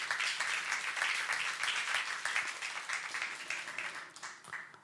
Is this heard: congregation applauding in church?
yes